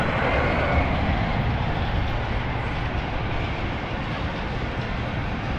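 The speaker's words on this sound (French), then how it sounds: "Ah, le train est là-bas." A train rolls past at the Liseberg amusement park in Gothenburg, a steady, loud broadband rumble with rattling that stays close and continuous throughout, with no talk over it.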